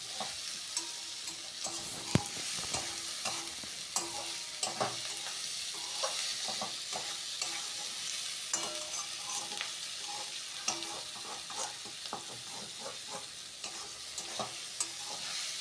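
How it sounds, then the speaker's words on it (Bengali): Potatoes, onion, green chilli and tomato frying with salt in a pan, stirred continually: a soft steady sizzle under frequent scraping and clinking stirs, close by and fairly quiet, with no voices. "নুনটাকে ভালো মতো আলু, পেঁয়াজ, কাঁচা লঙ্কা এবং টমেটোর সাথে মিক্স করে নেব এভাবেই।"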